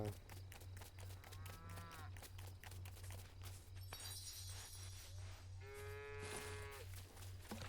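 Cows mooing in the video game Fallout 76, several faint drawn-out moos from a pasture over a steady low hum, a closer moo near the end.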